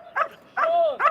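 A dog barks three times at a Mondioring competition, close and loud, with the middle bark drawn out into a longer, whining yelp between two short ones.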